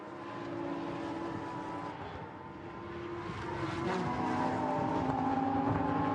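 A Lamborghini Super Trofeo race car powers past at the Nürburgring during a 2020 European race, its engine note droning steadily and then swelling louder as it approaches over the brow, with other motor noise underneath.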